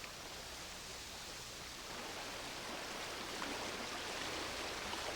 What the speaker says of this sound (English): Brook makes rushing sound